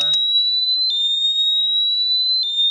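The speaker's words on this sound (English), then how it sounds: "there's the 100 decibel alarm" A 2019 R&M Homage step-through e-bike's 100-decibel anti-theft alarm blares as one loud, continuous high-pitched electronic tone, with a few brief clicks and a short burst of handling noise at the start.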